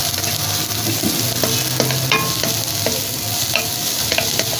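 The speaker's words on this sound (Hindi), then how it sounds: "अब इसमें डाल देना शिमला मिर्च, क्योंकि ये ज़रा सख्त होती है, इसको ज़रा थोड़ा सा पहले भून लो।" Chopped garlic and bell pepper stir-frying in a hot pan, with a steady loud sizzle and scattered scraping clinks of a spatula stirring, no voices.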